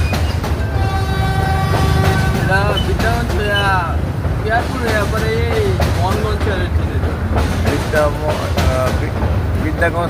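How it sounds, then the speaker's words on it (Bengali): A train rolls past close by beside a riverside market, a loud, steady rumble of wheels and carriages with a long horn blast, while people talk over it. "ট্রেন যাচ্ছে"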